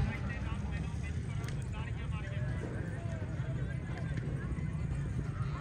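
A horse gallops at a neza bazi tent-pegging event in Piplan, with hoofbeats rumbling low and steady beneath loud announcer-style talk and a constant open-air background.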